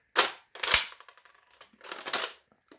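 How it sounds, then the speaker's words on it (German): A pistol slide is racked back and released, giving two sharp metallic clacks close together, then a brief mechanical rattle and a final snap, close and crisp in a quiet room. "wenn man da den Schlitter zurückzieht und das so richtig sattes Geräusch macht"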